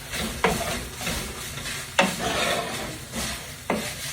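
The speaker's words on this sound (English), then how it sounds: "We're gonna put our onion in here. Get our onion all in there. We're gonna come back in and mix it up." A utensil stirs onion into hamburger meat frying in a pan, with three sharp scraping strokes spaced over a steady sizzle, close by and with no voices.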